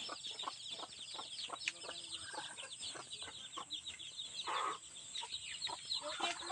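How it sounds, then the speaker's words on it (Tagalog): A mother hen clucks repeatedly on a farm in Isabela, steady close calls over a busy outdoor backdrop, with other fowl and chickens audible nearby. "Yun o, yung inahin."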